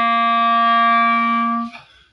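A clarinet sounding a plain C fingered with three fingers, one steady sustained tone held for under two seconds before stopping, close and clear with no talk.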